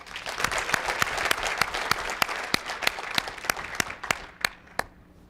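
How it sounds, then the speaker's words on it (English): An audience claps at a school superintendent's state of schools address, a full, fairly loud round of applause with a few sharp, evenly spaced claps standing out above the crowd before it fades away. "Another round of applause."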